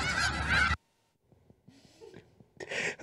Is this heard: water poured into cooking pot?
no